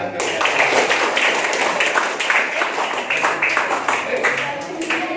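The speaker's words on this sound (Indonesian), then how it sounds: "Ya, tepuk tangan." A classroom of schoolchildren claps together in a dense, continuous patter of hands, with a little chatter mixed in.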